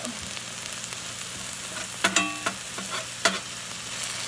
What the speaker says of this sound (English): So now I'm using my wonderful push around the vegetable skill.